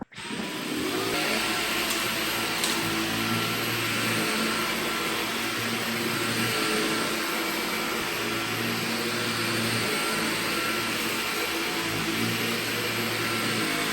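A Dyson Gen5 Detect vacuum cleaner runs on carpet, starting abruptly and holding a loud, steady motor whine and airflow roar throughout, with slight shifts in pitch.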